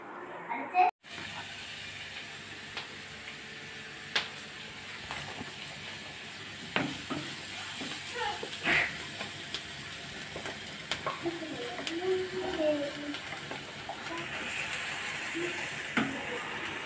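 Onions sizzle steadily in a hot pan with a ground masala paste, with occasional scraping taps from a spoon stirring them.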